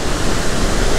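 Ocean surf washes steadily onto a beach where a fisherman is shore jigging in the gutters, forming a close, continuous broadband roar with no distinct breaks.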